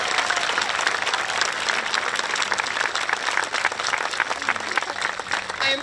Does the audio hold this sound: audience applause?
yes